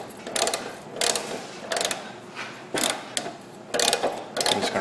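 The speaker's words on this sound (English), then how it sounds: "I'm just going to run a tap up through there." A thread tap cuts threads into the metal of a Jeep WJ front long arm in rhythmic ratcheting bursts, about six rasping turns with short pauses between them, close by and with no talking.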